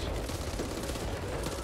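Continuous dense gunfire from the Back 4 Blood shooter game, a loud unbroken stream of shots with no pauses.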